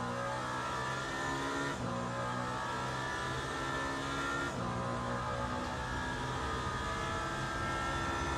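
A Ferrari hypercar in a racing video game revs hard through the gears, its engine note climbing loudly and steadily, then dropping sharply at each upshift before rising again.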